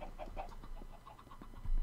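Chickens clucking inside a coop in Minecraft, a few soft, short clucks scattered over a low steady background, close by and fairly quiet, with no talking.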